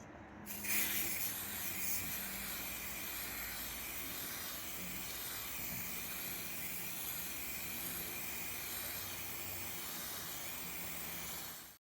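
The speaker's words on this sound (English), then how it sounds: "So let's give this thing a nice coat of the self-etching primer all over" Self-etching primer sprays from a can in one continuous, close hiss that starts with a short burst and holds steady at moderate level for roughly eleven seconds before stopping.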